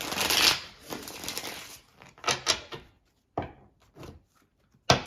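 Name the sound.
shuffling tarot cards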